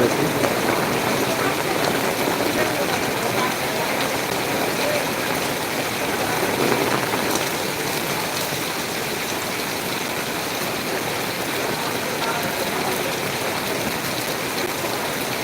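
Heavy monsoon rain pours steadily outdoors in Natore town, in front of the press club, as a dense, continuous hiss that stays at an even level throughout with no break.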